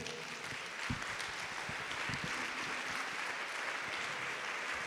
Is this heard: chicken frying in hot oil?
no